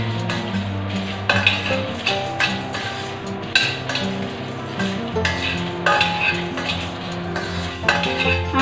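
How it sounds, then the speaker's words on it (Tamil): Dry red chillies being lightly roasted for Tirunelveli idi sambar, stirred in a pan with steady scraping and clinking of a spoon against metal over a soft continuous background, with no talking. "இப்போ மிளகாய் வத்தலையும் போட்டு லேசாக வறுத்துருவோம்"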